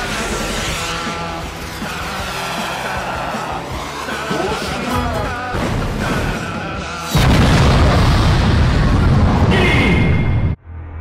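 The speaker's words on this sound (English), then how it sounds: "Rocket launcher." A rocket launcher explosion rumbles loudly with a deep booming burst that hits hard late in the clip, preceded by busy game noise and cutting off abruptly near the end.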